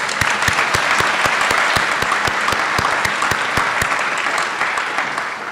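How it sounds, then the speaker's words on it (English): A crowd at a graduation ceremony claps steadily, loud and close, with individual hand claps distinct in a fast rhythm that slowly eases toward the end. "Give them another round of applause."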